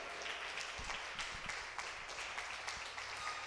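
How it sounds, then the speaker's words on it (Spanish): A church congregation claps together in a steady, dense wash of applause that holds evenly throughout, with no voices standing out. "Dale un aplauso al Señor"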